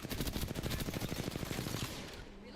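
Rapid automatic gunfire in a multiplayer video game rattles in a dense, steady burst for about two seconds, then stops abruptly.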